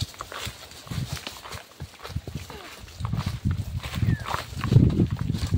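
A Tayabas horse hauls a heavy load of large timber and its hooves clip-clop in an uneven walking rhythm close by, while people talk over the steps.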